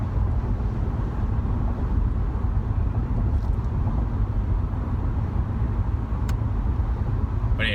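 A police vehicle moves along a freeway amid traffic, giving a steady, loud rumble of road and engine noise with wind buffeting throughout and no siren standing out.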